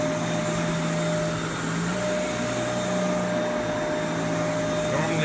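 A Kenmore Elite upright vacuum cleaner runs continuously at close range, its steady motor drone and brush agitation humming loudly while it picks up dirt from the floor.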